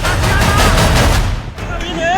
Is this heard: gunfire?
yes